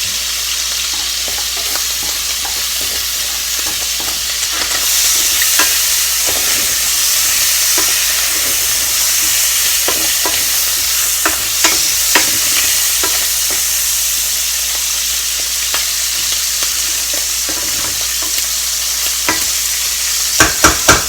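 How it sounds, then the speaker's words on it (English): Garlic frying in butter alongside shrimp in a hot pan, a loud, continuous sizzle with scattered pops and spatters and occasional utensil clicks near the end, no voices. "So now that I've flipped it, what I'm going to do now is add garlic"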